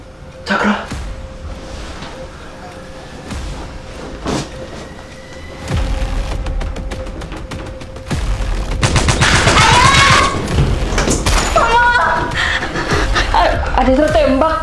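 Bursts of gunfire in a film scene crackle in rapid volleys amid shouts and voices, growing denser and louder in the second half over a tense background.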